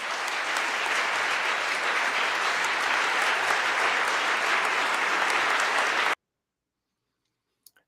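Loud, steady applause fills a legislative chamber in the Maine State House during a State of the Budget Address, sustained for about six seconds and then cutting off abruptly into silence.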